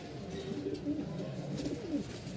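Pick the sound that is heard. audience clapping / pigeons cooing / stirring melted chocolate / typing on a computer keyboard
pigeons cooing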